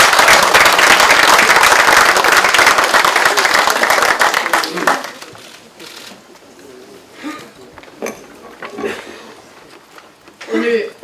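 Lawmakers at a parliamentary workshop greet their party leader with loud sustained applause for about five seconds, fading out, followed by scattered room noise and a voice speaking.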